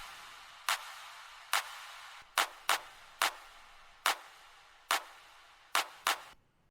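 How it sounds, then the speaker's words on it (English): Clap sample from a techno sample pack looping alone, with sharp, bright hand-clap hits in an uneven syncopated pattern, about ten hits, each with a short decaying tail and near silence between. "It's the clap 1 of the pack"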